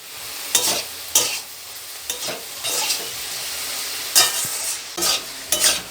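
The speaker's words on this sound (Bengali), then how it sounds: "ভালো করে মিশিয়ে নিচ্ছি আমি।" Taro and turmeric being stirred in a frying pan, with a steady hiss and sizzle of frying under repeated sharp scraping strokes of a spoon against the pan, spaced about every second, close and fairly loud.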